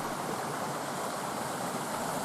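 A Carpathian mountain stream near a waterfall rushes in a dense, unbroken hiss of running water, close and steady throughout with no voices.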